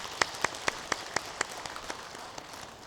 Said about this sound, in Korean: 오늘도 찬양으로 섬겨주신 우리 은평찬양단 박수로 격려하겠습니다